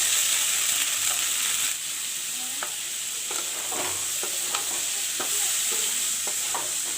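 Soaked chana (chickpeas) frying in a pan with browned onions, a continuous sizzle broken by repeated scraping and stirring strokes, close and fairly steady, with no talking.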